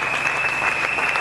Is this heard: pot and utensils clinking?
no